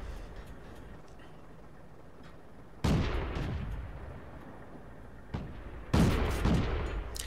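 Two loud blind-fired shots from an M2 Light tank's gun in a tank video game boom out a few seconds apart, each with a rumbling tail. A smaller thump falls between them over quiet battlefield ambience, with no talk.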